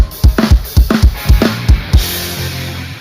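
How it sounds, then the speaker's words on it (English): Drum intro of a song: loud, punchy snare and tom hits in a driving rhythmic pattern, about eight strong accents over three seconds, with cymbal wash ringing out at the end. No voices. "brings the song in with a massive drum intro that sounds like this"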